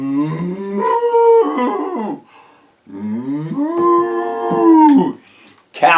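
A person imitates a cow, drawing out two long, loud moos with a brief pause between them and a short sound at the very end.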